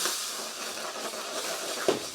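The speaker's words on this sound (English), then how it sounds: "Creates a lovely steam." Water drizzled into a hot pan of onions for a spicy mutton korma sends up a steady, close steam hiss lasting about two seconds, with a brief sizzle burst near the end.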